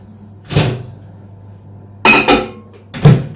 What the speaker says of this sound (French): Je vais faire tout de suite chauffer au micro-ondes.